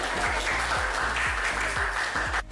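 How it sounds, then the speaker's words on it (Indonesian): Audience applause for group 3 at a teachers' academic supervision coaching session, a steady wash of clapping sustained at even loudness that cuts off abruptly near the end. "mari kita beri tepuk tangan untuk kelompok 3"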